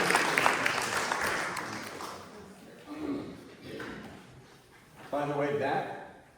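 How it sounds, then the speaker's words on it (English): An audience at an art talk held by an art association claps for a speaker. A burst of clapping starts loud and fades over several seconds, and voices talk over it and after it. "Could we encourage Courtney with a round of applause?"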